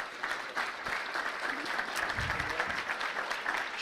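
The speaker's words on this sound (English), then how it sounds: "give a round of applause to Ronnie, if you would." Audience applause at a morning community salute to the military, sustained clapping from a moderate-sized crowd with a faint low voice briefly underneath.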